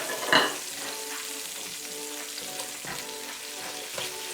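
Garlic fries in oil and butter in a pan, crackling and sizzling steadily at close range, with a sharp stirring clatter at the start and small pops throughout.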